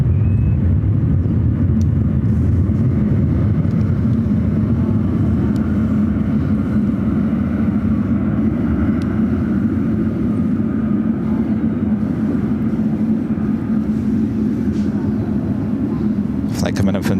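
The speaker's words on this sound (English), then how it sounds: "Emirates A380 Super about to fly directly over us" A large four-engine Emirates Airbus A380 passes overhead at San Francisco airport, a loud, steady broadband roar with deep low rumble sustained throughout, faint high whine on top.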